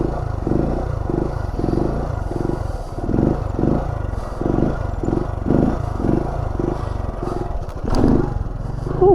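A motorcycle with stock exhaust rides nearby on a stunt lot, its engine giving a steady low, throbbing pulse that rises and falls with the throttle, with a brief clatter near the end.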